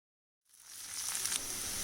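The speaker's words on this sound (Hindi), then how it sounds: "अब इस स्टेज पे हम काजू और हरी मिर्च को डाल देते हैं, साथ में पका लेंगे 1 मिनट" Sliced onions fry in a pot with cashews and green chilies for a restaurant-style chicken changezi. After a moment of silence a bright, close sizzling hiss swells up and holds steady.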